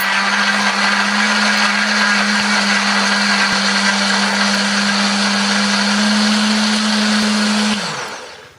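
A blender grinding spice paste with a little water runs steadily at full power with a constant grinding whir, then winds down and stops at the end.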